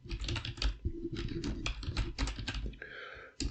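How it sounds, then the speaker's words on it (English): Rapid clicking of keys on a computer keyboard, close and steady, in short bursts with a brief pause near the end. "Click on the keyboard."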